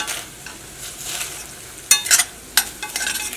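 Chicken stirred and frying in a pan: a soft, steady sizzle runs throughout, broken by a few sharp scraping clatters of the stirring utensil near the end. No one speaks.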